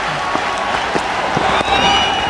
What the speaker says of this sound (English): The crowd here standing up to give him a big hand.